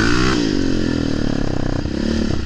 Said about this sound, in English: I got the big gun dual Evo R's on the bike, and I took the airbox lid off